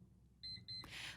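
A timer alarm goes off indoors, two short pairs of high electronic beeps followed by a brief burst of louder noise, all fairly faint against a quiet room.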